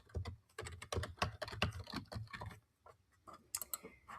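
Close, crisp keystrokes on a computer keyboard as a comment is typed into a MakeCode coding workspace, coming in quick irregular bursts with a short pause partway through and a final flurry of taps, with no talking.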